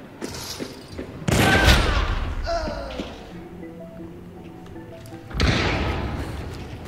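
Gunfire in the video game Hunt: Showdown, with a couple of heavy blasts, one near the start and one late in the clip, each trailing off into a rumbling tail while players talk quietly between them.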